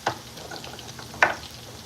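Swedish meatballs frying in vegetable oil give a quiet, close sizzle, with two short louder scraping bursts near the start and the middle of the clip.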